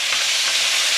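Chicken thigh frying in a pan, a dense, loud, continuous hiss of hot oil up close with no voices.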